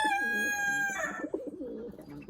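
A turtle dove coos with low, rolling calls close by, under a higher, sustained tone that fades out partway through.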